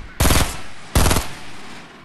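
Two rapid bursts of automatic gunfire in a Fortnite match, each about a third of a second and spaced under a second apart, loud and close with a short fading tail.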